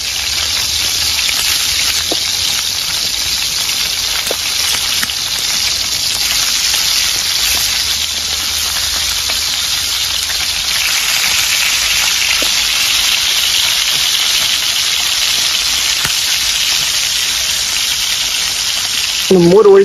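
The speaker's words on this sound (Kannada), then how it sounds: "ಒಂದು 5 ನಿಮಿಷ ಫ್ರೈ ಆದ್ರೆ ಸಾಕು, ಜಾಸ್ತಿ ಬೇಡ ಆಯ್ತಾ" Tiger prawns in Malnad-style masala frying in a pan over high heat, a steady, loud, hissing sizzle that runs unbroken throughout, with faint clicks of stirring.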